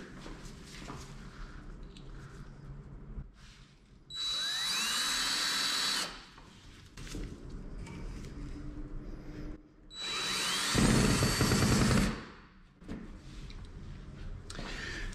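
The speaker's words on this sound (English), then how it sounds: "take my drywall screw and I'm going to screw it right through here" A power drill drives a drywall screw through drywall into a metal clip in two loud whirring bursts of about two seconds each, separated by quiet handling noises.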